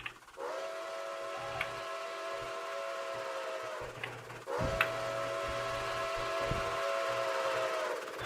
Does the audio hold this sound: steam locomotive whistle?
yes